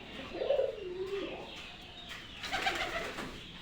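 Pigeons cooing nearby in a home setting, soft rounded calls coming in two short bursts separated by a brief pause, with no talk over them.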